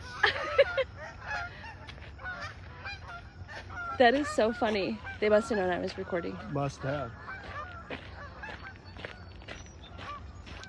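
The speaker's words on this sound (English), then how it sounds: "And then a bunch of geese." Several geese honk in loud, overlapping bursts, close by, while a person talks and laughs quietly over them.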